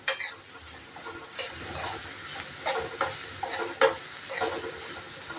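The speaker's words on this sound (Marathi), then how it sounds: "तो पण कांदा परतून घ्यायचा आहे आपल्याला, चांगला गुलाबी कलर होईपर्यंत" Chopped onion sautéed in a pan for a raw banana sabzi gives off a quiet sizzle, broken by intermittent scrapes and clicks of a spoon stirring against the metal.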